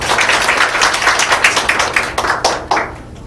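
An audience at a sales training lecture claps for the lecturer, a crisp round of many hands applauding that thins into a few scattered claps before fading.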